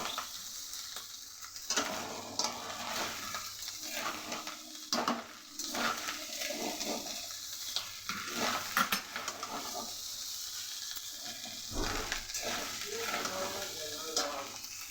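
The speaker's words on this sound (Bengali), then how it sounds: "আবার একসাথে ভালো করে ভাজবো।" Leftover rice fried with sugar in a pan sizzles steadily while a spatula scrapes and stirs in repeated strokes, with occasional clinks against the metal and no talking.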